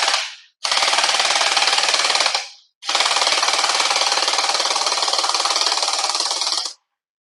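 Anstoy M4A1 gel ball blaster converted to an MP5 firing in full-auto, two long sustained rattling bursts of rapid buzzing shots separated by a brief pause, loud and close with no talking.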